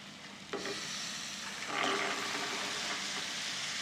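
Washed, drained vegetables tipped into a black masala and turmeric paste in a pan and stirred, giving a soft scraping sizzle with a sharper clatter of them landing, then steady stirring noise, close up and with no voices.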